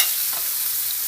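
Crushed, unpeeled garlic cloves hit a hot pan beside a searing steak, giving a steady, close, bright sizzle with no voices.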